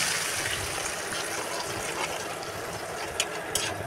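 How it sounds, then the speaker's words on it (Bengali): Water being poured into a pan of cooking egg korma, a continuous gushing, splashing pour of fairly even loudness, with a couple of faint clinks near the end. "আর এই তো পানি দিয়ে দিলাম"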